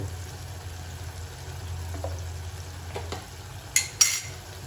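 A spoon works garam masala into softened, mushy tomatoes in a pan for spicy chicken masala, making a low, steady scraping stir under a faint sizzle, with a couple of sharper utensil clicks near the end and no talk.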